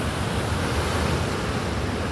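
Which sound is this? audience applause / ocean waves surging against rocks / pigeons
ocean waves surging against rocks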